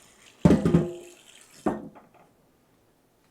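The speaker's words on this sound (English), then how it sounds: "And add water to it." Tap water splashes into a pot of pears with sugar and cinnamon in two short bursts, the first louder and longer, the second brief, then silence.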